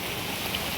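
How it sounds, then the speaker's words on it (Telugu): Sudden heavy rain pouring down in Karimnagar, a dense, even wash of patter on surfaces, close and loud, with no voices. "ఇక ఇప్పుడు సడన్గా పడుతుంది వాన"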